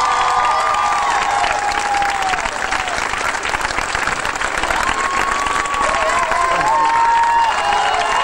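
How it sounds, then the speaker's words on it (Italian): Dense, steady applause from a crowd gathered in an outdoor town square, loud and continuous throughout with faint cheering mixed in. "Mi fate un applauso senza sti cose?"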